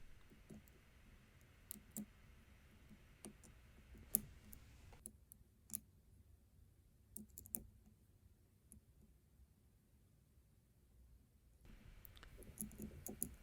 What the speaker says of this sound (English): that little clicky sound is a sound of a rotationally set pin